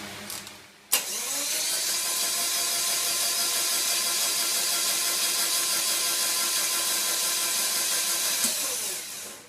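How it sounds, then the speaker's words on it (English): A turbocharged Subaru EA82T engine cranks over for several seconds, a loud, steady whirring starter drone with a fast rhythmic churn that starts abruptly after a short click and runs evenly before stopping. "I'm going to give it a crank and see where our timing is"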